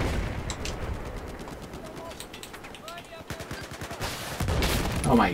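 Heavy gunfire in a Battlefield 4 multiplayer Rush match at Rogue Transmission, with rapid bursts and close, loud shotgun-like blasts layered over a dense battle din while a player talks excitedly.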